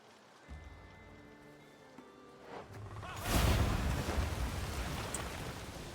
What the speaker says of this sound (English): Although here comes the rain.